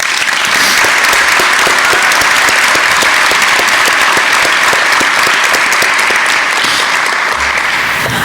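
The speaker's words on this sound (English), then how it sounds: "I'd like to start off by giving another round of applause to congratulate all of tonight's honorees" A large audience at a community service awards ceremony claps steadily and loudly for a full stretch, a dense, even wash of hands with no voices standing out.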